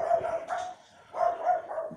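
A dog barks close by in a home: a few short, tonal barks split by a brief pause.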